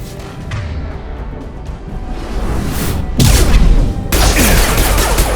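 Gunfire and explosions in Mass Effect 2, a sci-fi shooter: sustained crackling weapon fire building into loud blasts around the middle and near the end, heavy booming impacts over constant battle noise.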